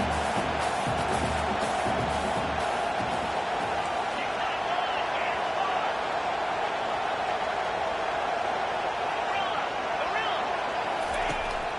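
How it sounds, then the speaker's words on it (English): A stadium crowd in a college football video game roars steadily at a loud, even level throughout, a dense sustained cheer during a fourth-down play with a commentator talking over it. "This crowd busting the decibel meter and trying to will a 4th down stop."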